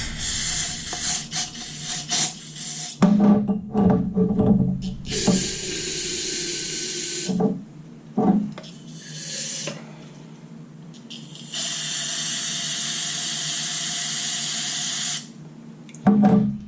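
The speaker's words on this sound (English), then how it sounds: "Just a little bit, wash off them screws a little bit." Carburetor screws from a 2005 Arctic Cat 400 4x4 are washed in brake parts cleaner, with close metallic rattling of screws and a sustained aerosol spray hiss in several long bursts broken by clinks.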